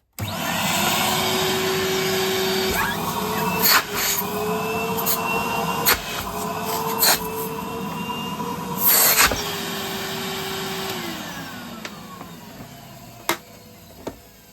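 A worn 2006 Henry vacuum cleaner motor, working only on high, runs steadily with a whiny, droning pitch, punctuated by a few sharp clicks and crackles, then winds down toward the end.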